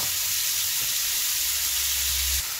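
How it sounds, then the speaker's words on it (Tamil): Tomatoes sizzle and fry in a pan for a spinach and tomato curry, giving a steady, close, continuous hiss with a low bubbling undertone and no talking. "தக்காளி பழம் நல்லா வதங்கிட்டு பாருங்கோ."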